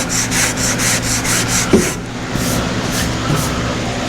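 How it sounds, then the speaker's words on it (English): Steady rhythmic rubbing of sandpaper over 1952 Chevy bodywork before painting, close and loud, a repeated back-and-forth scrape that slows and changes texture partway through. "Gotta make sure this sands out okay."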